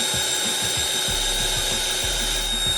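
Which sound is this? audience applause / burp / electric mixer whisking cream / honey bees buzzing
electric mixer whisking cream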